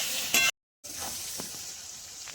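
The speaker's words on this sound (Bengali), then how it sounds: "বেগুনটা একটু ভেজে নেবো ভালো করে।" Eggplant pieces fry with turmeric, salt and green chillies in a pan, making a steady close sizzle with light stirring scrapes, broken by a brief moment of silence.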